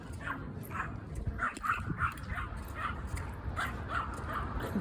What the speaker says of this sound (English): this dog wants to eat me